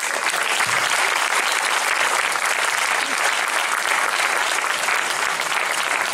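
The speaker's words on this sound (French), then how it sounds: "Des applaudissements encore plus chaleureux parce que Walid a trouvé le chemin." Steady, full applause from a theatre audience, a dense wash of many hands clapping without pause, loud and close.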